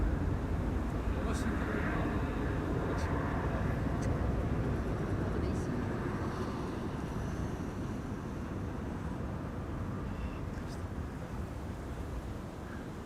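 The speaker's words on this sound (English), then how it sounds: "It's an airplane getting away." A Turkish Airlines jet departing Amsterdam Schiphol from runway 18 Left, bound for Istanbul, a steady distant engine roar with wind buffeting the microphone, slowly fading over several seconds.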